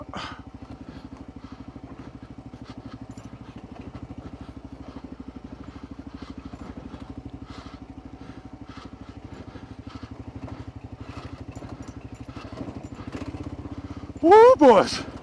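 A Gen 3 Kawasaki KLR 650 single-cylinder motorcycle engine thumps steadily nearby while riding off-road trails, with clattering from rough ground, then revs sharply near the end.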